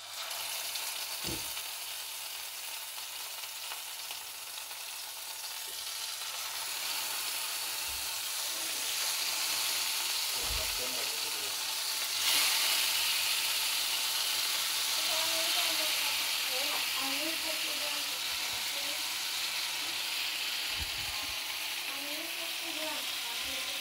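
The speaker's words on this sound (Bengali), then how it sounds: "আমার ফ্রাই প্যানটা এখন গরম হয়ে গেছে, আমি মাছটা দিয়ে দিচ্ছি" Catla fish laid into a hot frying pan gives a quiet, steady sizzle that swells after a few seconds and stays even, with a few soft knocks and clinks of utensils.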